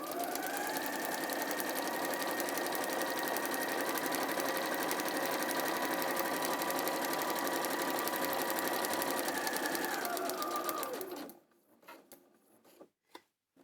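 A sewing machine stitches continuously along a line for about eleven seconds, its motor whirring steady and close with a rapid mechanical needle rhythm, then stops abruptly for a needle-down pivot, leaving a few faint clicks and handling noises.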